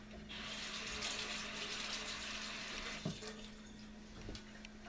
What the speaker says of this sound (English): now, my hands are dirty. Let me rinse real quick.